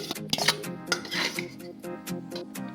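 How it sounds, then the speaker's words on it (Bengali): Yogurt spooned onto washed chicken pieces in a bowl for a chicken korma marinade, with a spoon clinking and scraping against the dish in quick, uneven bursts, close up and without talk. "প্রথমেই দিয়ে দিচ্ছি এর মধ্যে দই"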